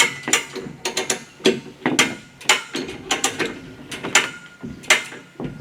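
A jack ratchets in a quick series of sharp clicking strokes as the last wall of a Maine cabin is lifted about an inch off the floor, with irregular mechanical clacks and no voices.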